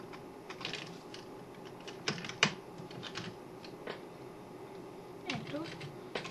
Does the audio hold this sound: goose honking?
no